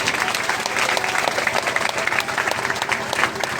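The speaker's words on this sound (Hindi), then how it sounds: "स्वागत का जोरदार तालियां।" A village gathering breaks into loud, dense applause welcoming a guest, many hands clapping continuously with a faint crowd murmur underneath.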